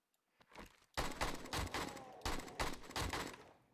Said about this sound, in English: I'm going full assault rifle on this thing